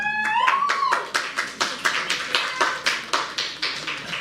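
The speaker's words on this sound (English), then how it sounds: "Not sure why you're clapping for that" An audience at a live spiritual talk claps in a steady, evenly spaced rhythm, each clap sharp and fairly close, after a brief tonal whine at the start.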